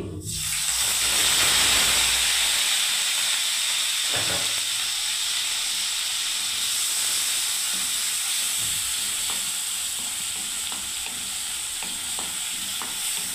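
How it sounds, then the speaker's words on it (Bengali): Onion paste drops into a hot oiled pan for a mixed vegetable curry, bursting into a loud, steady sizzle and hiss that continues throughout, with occasional light stirring clicks. "এবার আমি দেখুন বন্ধুরা পেঁয়াজ বাটাটা আমি দিয়ে দিচ্ছি"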